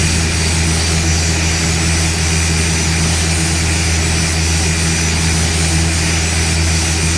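Steady turboprop drone from a Carenado ATR 42-500 in the Prepar3D flight simulator, a continuous loud engine hum with propeller buzz and tonal whine, unbroken and alone throughout.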